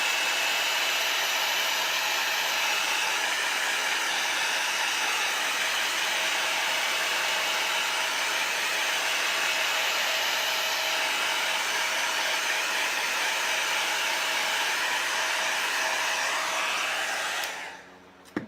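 A hair dryer blows steadily and loudly on a chalk craft project for about eighteen seconds, then switches off, with no talk.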